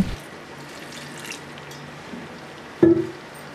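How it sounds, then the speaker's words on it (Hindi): Water poured into a pan of karela and aloo (bitter gourd and potato) being cooked, giving a brief sudden splash and sizzle near the end over a quiet cooking background. "अब हम इसमें थोड़ा सा पानी डालेंगे।"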